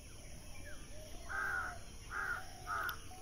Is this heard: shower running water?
no